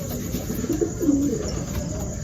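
Racing pigeons kept for summer races coo softly in a loft, a few low rolling coos close by over a faint steady background.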